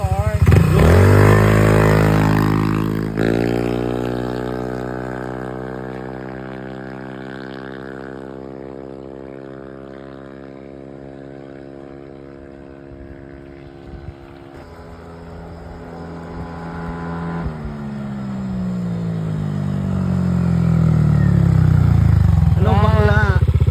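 A motorcycle engine revs up and holds steady during a torque test, its tone rising and falling in long sustained sweeps, loud and close, with people talking around it.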